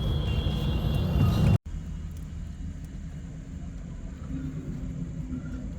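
A dense rumble of road traffic on the Hyderabad to Adilabad route, loud at first, then cutting abruptly to a quieter, continuous background hum of engines and passing vehicles.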